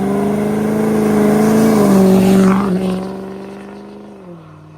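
A 2019 Chevy Silverado L5P Duramax diesel engine with an aftermarket exhaust roars loud and close, revving up and holding, then easing off and fading away near the end.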